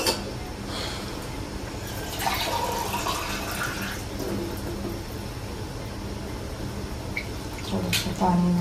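Water is poured from a vessel into wheat flour with salt for paratha dough: a steady, moderately close trickle and splash that swells briefly, with faint kitchen noise and a few clinks around it.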